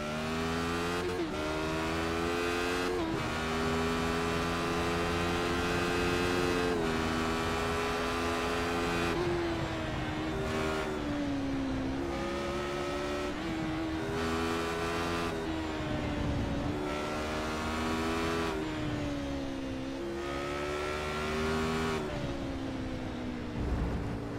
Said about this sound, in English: you can hear what this car sounds like when it's winding out